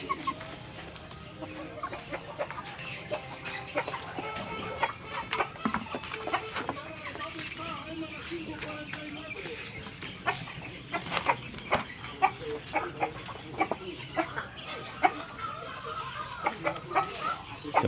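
Chickens cluck repeatedly while feeding on vegetables on a farm, a busy, close flock chorus with scattered louder calls and a voice talking over it now and then.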